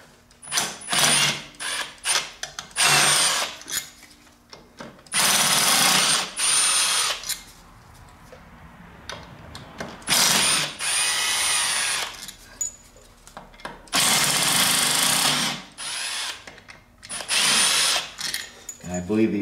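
A power tool loosens 10 mm bolts on a factory cast aluminum clutch cover of a motorcycle, heard as loud, close whirring bursts of a few seconds each, separated by short pauses filled with quieter handling noise.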